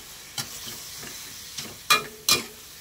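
Shrimp with holy basil is stir-fried in a pan: a soft background sizzle broken by several spatula scrapes and clanks, the last two louder and close together.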